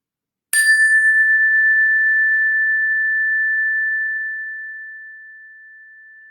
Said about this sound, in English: let's just start by enjoying the sound of the bell.